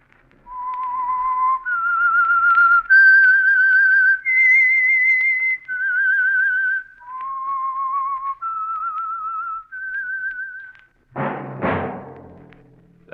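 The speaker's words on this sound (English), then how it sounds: "That whistle is your signal for the Signal Oil program, The Whistler." The whistled theme of the radio mystery program The Whistler, a lone melodic whistle that steps through a slow run of sustained notes for about eleven seconds, followed by a brief burst of orchestral music.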